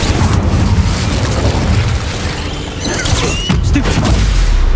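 An Incendio fire spell cast in a cave in Hogwarts Legacy, a loud sustained rushing roar with bursts and crackles, blending with other spell effects and battle noise.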